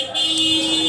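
A police vehicle sounds its horn on Sarasbaug food street in Pune at night, a single sustained tonal honk lasting under a second after a brief quiet start.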